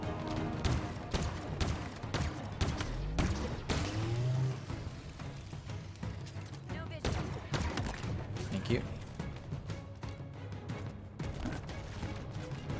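Enemy gunfire in the Halo Infinite campaign crackles in dense, rapid bursts of shots mixed with impacts and effects, continuing throughout with a voice talking over it.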